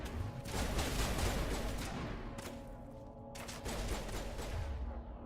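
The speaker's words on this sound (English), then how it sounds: "Uh-oh, gunfire." Gunfire during a battle on Eden Prime in the Mass Effect video game, played on Insanity difficulty: dense, continuous bursts of rapid shots with heavy low thumps, fairly faint and without talk.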